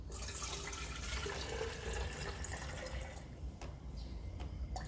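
Liquid plant fertilizer solution poured from a bottle, a continuous soft watery gurgle and splash that thins toward the end, with faint drips, no talk.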